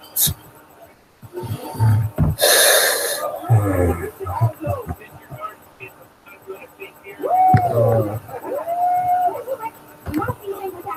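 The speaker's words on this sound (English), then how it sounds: "I think that's a yawn of boredom" A person yawns out of boredom during a live horror-game stream, a drawn-out breathy yawn with wavering voiced tones, mixed with other close mouth and breath noises and brief clatter.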